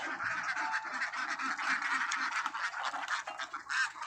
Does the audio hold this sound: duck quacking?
yes